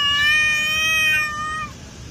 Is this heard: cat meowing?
yes